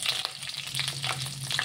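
Dried red chillies fry in hot oil, a close, soft, steady crackle and sizzle with small popping bursts and a low hum underneath, no voices.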